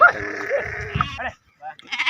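Sheep from a flock of about six hundred bleat close by, a long wavering call followed by shorter bleats and a brief pause, with a person's voice nearby.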